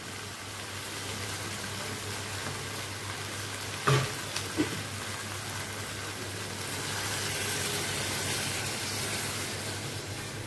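Water poured into a pan of potatoes frying for Bengali aloo dum, giving a brief splash and burst of hissing over a steady close sizzle that continues afterward.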